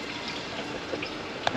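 Fresh water runs from a tap in a quiet, even stream, with a small drip or splash near the end.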